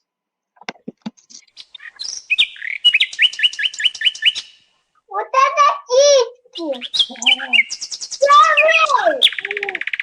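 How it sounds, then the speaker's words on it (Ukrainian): Nightingale song rings out clear and close in varied phrases of rapid trills, repeated notes and sharp chirps, and a voice briefly speaks over it. "Соловей!"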